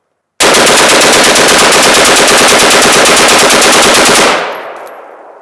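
AR-15 rifle with a Fostech ECHO binary trigger firing 55 grain ball: a loud, steady, rapid string of shots runs about four seconds without a break, then cuts off into a short fading echo.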